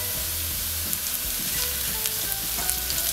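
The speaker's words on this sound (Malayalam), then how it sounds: "ബ്രൗൺ ആയിട്ട് ഈ ചുവന്ന ഉള്ളി ഒന്ന് മൂപ്പിക്കണം." Shallots sizzling in hot oil for a chicken curry, a steady bright crackle throughout with scattered pops and soft stirring noises, close and even in level.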